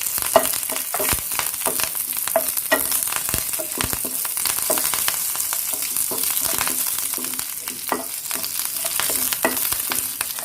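Curry leaves go into hot oil after the flame is turned off, giving a loud, dense sizzle and crackle with irregular sharp pops throughout and no talk.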